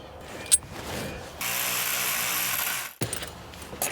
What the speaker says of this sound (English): I'm gonna go in with my electric ratchet just for speed